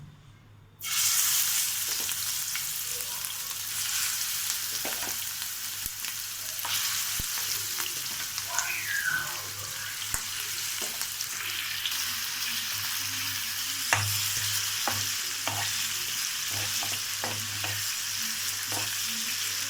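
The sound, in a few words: frying chicken liver (kaleji) in pan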